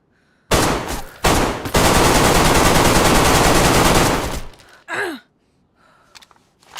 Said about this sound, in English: Okay, we have Mosin to fight. Let's shoot the wall.